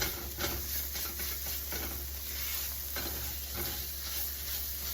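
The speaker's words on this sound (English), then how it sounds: "Incorporate that flour into our vegetables. Starting to make our sauce." Flour is stirred into vegetables sizzling in a pan, a soft steady frying hiss with faint rhythmic scraping of the spoon, low in level and without talk.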